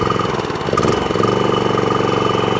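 An old lawn mower engine churns and sputters as it tries to fire up, a loud, close, uneven mechanical rumble that stumbles briefly before settling into a rough, pulsing run.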